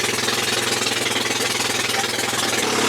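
A Mazda project car's engine drones steadily at close range while driving on a road, a constant rough mechanical hum with a rhythmic pulsing beat, no talk.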